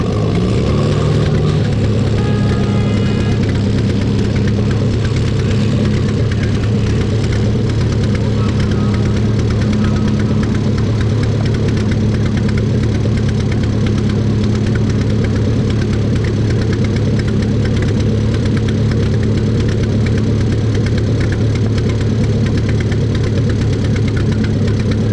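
WD pulling tractor with a monster carburetor and wrapped aftermarket header at a tractor pull in Lynden, Washington, a loud engine drone with a steady low throb held throughout, a voice briefly heard near the start.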